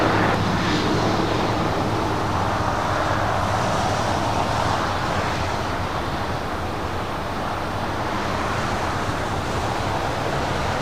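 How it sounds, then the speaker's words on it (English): Delta Airbus A330neo landing on runway 25 left at Los Angeles International Airport, giving a continuous, moderately loud rumble and hiss of engines and wind that stays even and fades slightly toward the end, with no talking. "Delta A330 Neo up next for arrival on 25 left."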